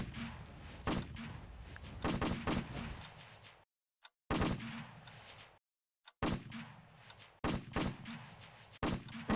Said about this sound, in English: These guns are so annoying.